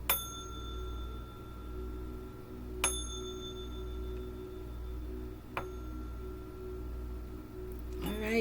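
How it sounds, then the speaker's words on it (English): A small bell is struck three times at even intervals of nearly three seconds, each a bright ringing tone that fades slowly over a low steady hum, then a soft clatter at the end. "I'm going to ring this bell"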